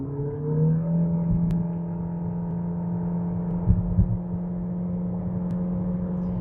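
A Geely EX5 EM-i hybrid SUV pulls away from a standstill in power mode, its combustion engine humming steadily with a rising whir and a couple of faint thumps, heard from inside the cabin.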